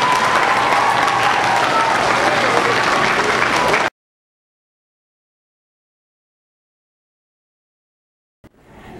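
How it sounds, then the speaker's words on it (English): Audience at an elementary school kindness assembly applauding guests, loud dense clapping for about four seconds that cuts off abruptly into silence, with a brief noise near the end. "Let's give our guests one more round of applause"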